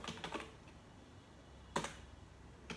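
Code being typed on a computer keyboard: quick bursts of key clicks near the start, then a quiet pause broken by two more sharp taps, close and fairly soft, with no talking.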